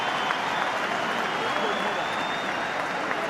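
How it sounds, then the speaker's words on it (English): A rugby stadium crowd at a Heineken Cup match between Munster and Perpignan roars and applauds after a penalty try, a broad steady wall of cheering and clapping under a commentator's voice. "Met by huge cheers from the Munster crowd."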